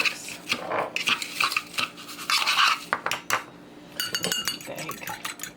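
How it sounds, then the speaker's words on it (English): A lentil croquette mixture with breadcrumbs, salt and pepper is stirred in a bowl, giving soft scraping and clinking of utensil against dish in uneven bursts, with quiet speech mixed in. "Give it a little mix."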